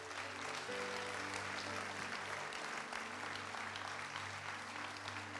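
A church congregation claps at an evening revival service, giving steady, continuous applause with a low hum underneath throughout.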